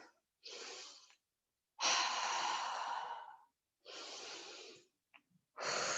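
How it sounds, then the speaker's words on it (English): Slow, deep breaths during a yoga practice, each long exhale audible and close, separated by short pauses of quiet. "Just breathing here."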